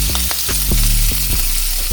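Lobster pieces sizzle in olive oil and garlic butter over medium-low heat, a steady frying crackle with soft repeated thumps and clatters as the pieces land and shift in the pan.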